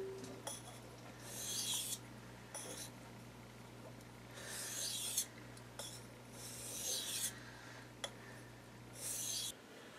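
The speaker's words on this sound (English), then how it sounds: "So just a few passes with the 1200 grit stone is good enough." A knife is drawn across a 1200 grit Japanese water stone in a series of soft, raspy scraping strokes at fairly regular intervals, faint and close, over a low steady hum with no talking.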